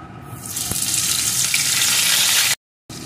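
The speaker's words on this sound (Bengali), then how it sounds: "একটা কড়াইতে একটু সর্ষের তেল বসিয়ে দিয়েছি, তেলটা গরম হয়ে গেছে। এখন এর ভিতরে দিয়ে দেবো আমি একটা পেঁয়াজ কুচি" Chopped onion hits hot mustard oil in a wok and erupts into a loud, steady hiss of frying that swells and holds, then cuts off abruptly before resuming briefly at the end.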